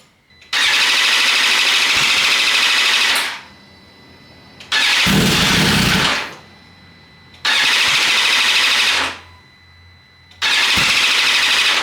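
A 2022 BMW S1000RR sport bike, fitted with a replacement throttle, is started four times; each start catches into a loud, steady high-revving engine roar lasting a few seconds before cutting off, with short quiet gaps between attempts.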